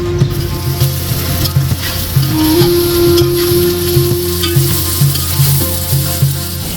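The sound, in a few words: finely chopped onions frying in oil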